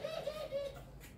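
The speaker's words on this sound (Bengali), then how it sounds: "এখানে এই যে আমার পার্শ্ববর্তী খাঁচার মধ্যে আছে অস্ট্রেলিয়ান সাদা ঘুঘু" An Australian white dove coos inside a cage, giving a soft, low series of short, close coos.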